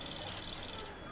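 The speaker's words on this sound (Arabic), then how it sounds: "انا ايه جاله تليفون؟" Telephone ringing quietly with a thin, steady electronic tone through a faint background hum, without talk.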